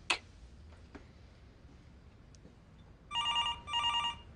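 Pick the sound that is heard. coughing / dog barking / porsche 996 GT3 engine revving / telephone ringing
telephone ringing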